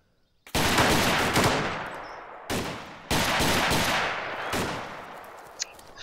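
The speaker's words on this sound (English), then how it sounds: "He's gonna fire at me most likely." Gunfire from an enemy player in the video game ArmA 2 DayZ, loud close bursts of rapid automatic shots that begin abruptly, break off briefly and resume, with no talk.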